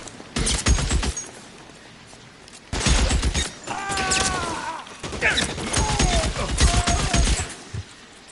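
Bursts of rapid gunshots in the video game L.A. Noire, loud volleys separated by short pauses, with shouting voices and other game sounds mixed in between.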